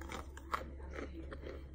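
Someone chews a crunchy snack close up, with a rhythmic series of soft crunches at a quiet level and no other sounds.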